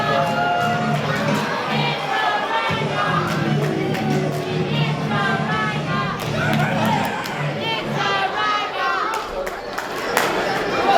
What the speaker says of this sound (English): Stop barking, you are not dogs.